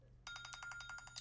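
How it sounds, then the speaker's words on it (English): A phone alarm rings in rapid, evenly pulsed electronic chirps, starting abruptly and repeating steadily, faint and alone. "Oh, that would be an alarm on my phone."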